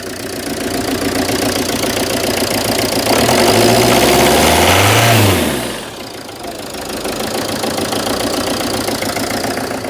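Citroen Berlingo engine idling with an uneven, misfiring beat, loud and close, briefly rising in pitch with induction noise before dropping back to a rough, stumbling idle.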